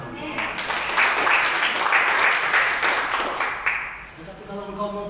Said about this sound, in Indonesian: Memberikan tepuk tangan.